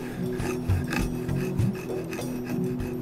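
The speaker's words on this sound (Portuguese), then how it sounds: "Agora pegue a madeira e comece a friccionar como se estivesse serrando." Yucca wood sawed back and forth against another piece to start a friction fire in Copper Canyon, giving a steady rasping scrape with rhythmic strokes about every half second, close and fairly loud, with no voices.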